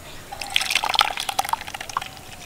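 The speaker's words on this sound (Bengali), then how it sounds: "এবার এটাকে ছেঁকে নেবো, তার জন্য একটা বড় পাত্র নিয়েছি, আর এখানে একটা ছাঁকুনিও নিয়েছি।" Blended watermelon pours through a sieve into a large bowl, a steady patter of drips and liquid trickling for a couple of seconds, close and fairly quiet with no talking.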